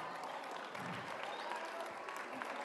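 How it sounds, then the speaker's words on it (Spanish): Schoolchildren applaud a classmate during a World Water Day activity, with a dense, steady wash of clapping from the group that continues evenly throughout. "un aplauso para tu compañero"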